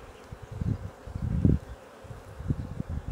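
Honeybees drone and buzz around an opened beehive frame, a close, fluctuating hum that swells and fades in pulses.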